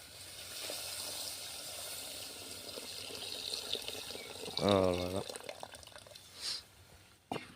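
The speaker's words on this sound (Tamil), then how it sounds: "அந்த புளி தண்ணியை இப்போ வந்து சேர்த்துக்கலாம்" Tamarind water pours and splashes briefly into a clay pot for fish curry amid kitchen background noise, with a short gurgling burst in the middle.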